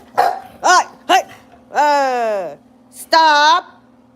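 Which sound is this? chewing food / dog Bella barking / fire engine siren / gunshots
dog Bella barking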